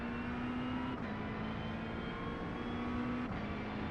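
A race car engine in the iRacing simulator droning at high revs, with two quick upshifts that briefly drop the pitch before it climbs again; the engine runs steadily and alone throughout.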